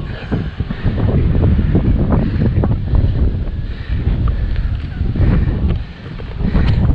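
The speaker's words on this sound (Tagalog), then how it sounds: "Medyo mahangin." Strong gusty wind buffeting the microphone at a hilltop viewpoint at Mother's Wonderland, a loud rumbling roar that surges and dips in waves with a brief lull before rising again.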